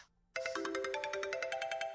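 A mobile phone rings with an incoming call, a bright repeating electronic ringtone of quick pulsing tones starting abruptly after a moment of quiet, heard clearly and alone.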